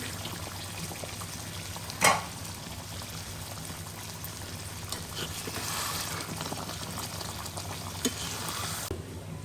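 Pointed gourd and prawn curry simmers under a lid with a low, soft bubbling and faint sizzle, steady and quiet, with one sharp clink near the start.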